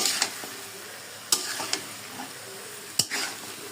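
Chilli chicken and vegetables being stirred in a pan with a light hand, sporadic scraping strokes over a soft sizzle, moderately close and no talking.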